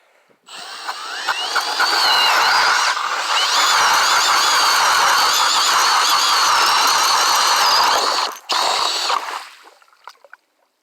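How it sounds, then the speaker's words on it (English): A loud, steady mechanical whine of a motorized auger drilling a hole through lake ice for ice fishing, running continuously for several seconds before cutting out, then a brief restart. "We'll drill there and see what happens."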